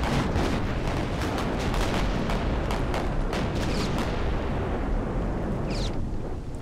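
Warship guns fire at the battleship Kongo during a Victory At Sea Pacific naval battle, a dense, continuous roar of heavy booms and rumbling blasts that rarely lets up.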